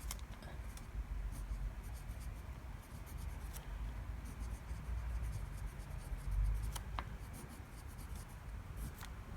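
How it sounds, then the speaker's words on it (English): A Monteverde fountain pen scratches steadily across Tomoe River paper in soft, wet-flowing strokes, with a few light taps and clicks, quiet and close. "Let's do a quick writing sample here on Tomol River paper."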